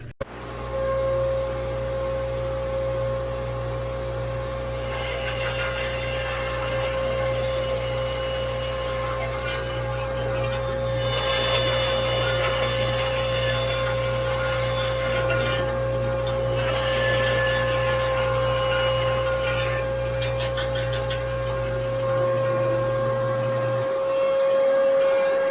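A vacuum cleaner roars steadily and loudly for the whole stretch while a workshop saw cuts wood, with the cutting noise rising over the drone now and then before the motor winds down near the end.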